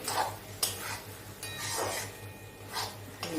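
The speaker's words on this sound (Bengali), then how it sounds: "একটু কর্নফ্লাওয়ার জলে গুলে এর সাথে মিশিয়ে দিলাম" A spoon scrapes and clinks against a pan while cornflour slurry is stirred into chilli chicken gravy, with rhythmic strokes and a steady low background hum.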